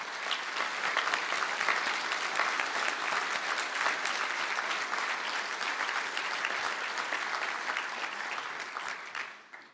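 Sustained, dense applause from a large audience at a university conferring ceremony in Galway, greeting engineering graduates. It stays steady and loud throughout and fades only at the very end.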